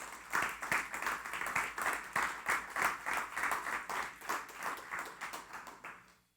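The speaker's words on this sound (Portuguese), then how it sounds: "Você dá uma salva de palmas ao Senhor por isso?" A church congregation applauds in swelling, rhythmic waves of clapping that hold steady, then die away at the close.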